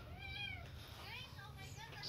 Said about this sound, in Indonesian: Itu kucingnya.